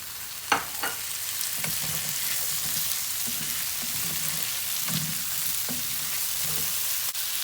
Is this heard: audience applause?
no